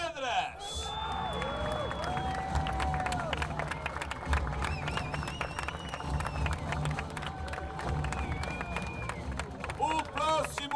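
Crowd at the Óbidos medieval market applauding a knight, with clapping, cheers and crowd chatter under an amplified announcer's voice.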